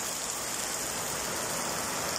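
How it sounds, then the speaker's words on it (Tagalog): Heavy rain pours down steadily, a dense, constant wash of drops hitting surfaces nearby with no pauses. "Lakas na ulan, oh."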